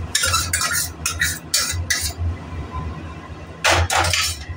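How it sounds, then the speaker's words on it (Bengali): Lentils are tipped into fried spices in a metal pan, giving a few bright clattering and scraping bursts over a low hiss, close up with a short pause in the middle. "এই সময় আমরা ডালটাকে ছেড়ে দেব।"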